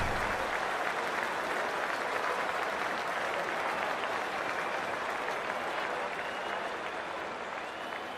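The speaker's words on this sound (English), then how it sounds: "We're about to get underway and already the crowd is up and about." A stadium crowd in the Cricket 24 video game cheers and applauds steadily before a T20 World Cup match involving South Africa, a dense, continuous roar that holds at a constant loud level throughout.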